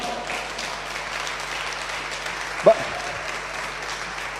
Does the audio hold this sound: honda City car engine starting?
no